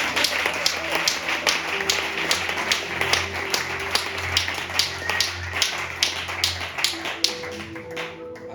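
A church congregation applauding, a dense, steady patter of many hands clapping at moderate distance over a low background murmur.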